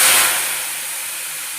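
Alladi being deep-fried in hot oil in a kadai, a steady broadband sizzling hiss that starts loud and settles into a continuous, slightly softer fry with no talking.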